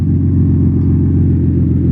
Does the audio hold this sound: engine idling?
yes